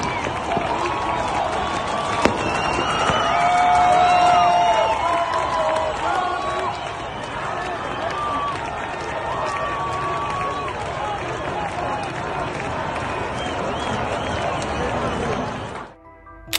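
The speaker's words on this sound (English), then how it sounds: "Footage posted Saturday appears to show protesters gathered in Tehran's Punak Square and Heravi Square, clapping, chanting Iran, and banging on pots" Protesters in Tehran's Punak and Heravi squares clapping, chanting and banging on pots during anti-government unrest, a steady crowd din of rhythmic noise and voices that continues throughout before cutting off at the end.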